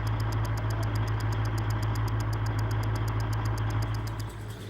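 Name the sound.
military vehicle engine started and idling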